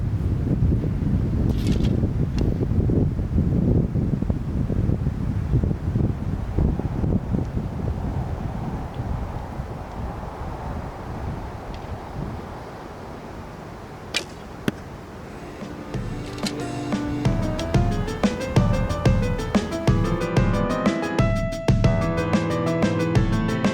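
Gusty wind blows outdoors, a rumbling low buffeting across the microphone that eases off partway through before a steady tonal hum takes over.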